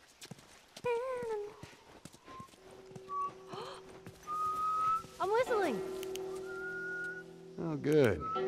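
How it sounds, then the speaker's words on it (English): A character whistles tunefully in The Last of Us, a run of rising and falling notes over horse hooves clip-clopping, a horse neighing and occasional speech. "I'm whistling!"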